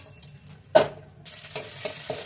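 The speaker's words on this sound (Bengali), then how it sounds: "তো এটাকেও ভাজা হয়ে গেলো, হালকা করে ভেজে নিলাম" Vegetables, including potato, being lightly fried in a pan, with a gentle sizzle broken by a sharp scrape of stirring early on and a few softer stirring knocks later.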